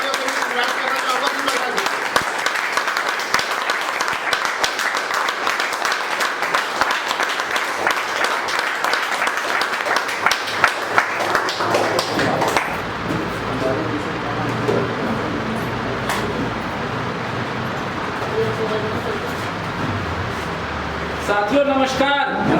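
Audience applause at a leaders' meeting: dense, sustained clapping from a large crowd fills the first half, then fades as amplified speech and room noise take over.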